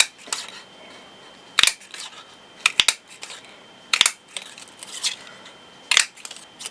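A large hole punch cuts shapes out of black paper, giving several sharp, close clacks spaced irregularly over soft handling rustle, some clicks coming in quick pairs.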